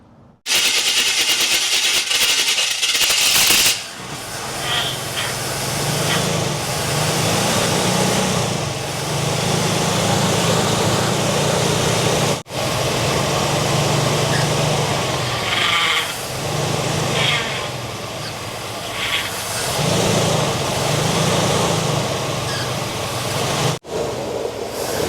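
A 1979 GMC truck engine, left abandoned for 25 years, idles after its carburetor idle mixture screws were adjusted. It runs loud and close with a rough, pulsing, uneven rhythm over about 25 seconds, cut by a couple of brief sharp breaks.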